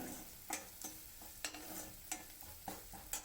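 A spoon scrapes through a pan mixture as half a teaspoon of garam masala powder is stirred in for Mumbai street-style samosa chaat, with soft repeated strokes at an irregular rhythm and no talk.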